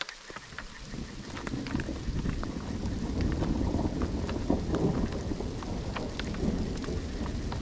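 Big raindrops patter steadily on surfaces during a mountain thunderstorm, with dense close drumming and scattered sharper drop hits throughout, no voices.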